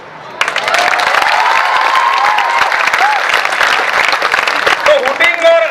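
A school audience breaks into sustained, dense applause with some cheering and whistles mixed in. The clapping is loud and fills the hall from start to finish, with scattered voices underneath.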